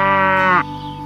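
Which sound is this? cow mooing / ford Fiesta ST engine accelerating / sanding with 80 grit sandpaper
cow mooing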